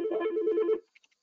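Yealink desk phone ringer trilling loud and close for under a second, then cutting off into near silence with a few faint clicks as the ringer volume is adjusted.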